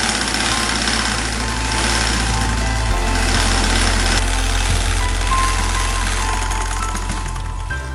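A machine stitches umbrella fabric in a traditional umbrella workshop, running with a loud, steady motor hum and rattling vibration that continues without a break and shifts slightly in pitch partway through.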